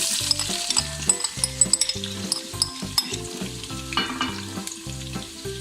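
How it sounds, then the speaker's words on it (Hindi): Bright sizzling hiss of onions frying in hot oil runs throughout, with a soft rhythmic background tune underneath. "मैंने 2 टेबल स्पून ऑयल को गरम कर लिया है। मैं इसमें प्याज ऐड कर दूँगी।"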